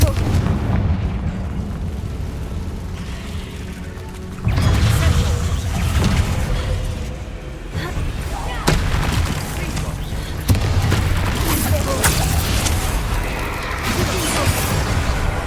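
Confringo fire spells in the Hogwarts Legacy video game burst repeatedly as loud explosive booms and crashing impacts over continuous game noise, several blasts spread across the stretch, with a voice talking underneath.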